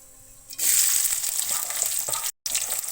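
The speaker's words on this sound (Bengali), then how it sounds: "প্রথমে তো পেঁয়াজ কুচি, মরিচ কুচি আর রসুন কুচি করে রেখেছি, এগুলা তেলের উপরে দিয়ে দিব" Chopped onion, chili and garlic hit hot oil and burst into a loud, steady sizzle that continues close up, with a brief cut near the end.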